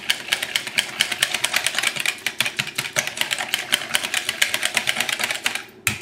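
A whisk beating buttermilk and wet ingredients in a bowl for a raspberry coffee cake, giving fast, steady, rhythmic clicking strokes that run continuously at close range with no talk.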